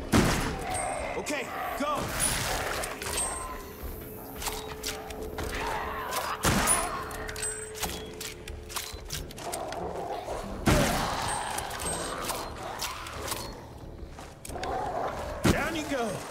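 Shots from a gun in the VR zombie shooter Arizona Sunshine 2 crack out sharply and loud in several separate bursts, with gaps and handling clatter between them and someone talking briefly.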